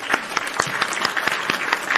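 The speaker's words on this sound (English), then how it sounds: "Alt Jake, round of a fucking applause, dude, for Alt Jake." Applause from a small group, with steady scattered claps at close range, moderately loud and continuous for a couple of seconds, with no voices over it.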